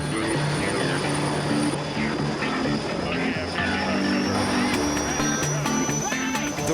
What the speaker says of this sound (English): the Big Dog, or Sikorsky S-58, fires up.